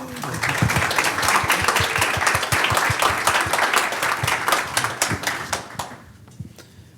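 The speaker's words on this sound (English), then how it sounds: "So they all deserve a good applause, I think." Audience applause for symposium panelists at a university engaged scholarship event: dense, loud clapping from many hands that holds steady, then thins out and fades over the last second or so.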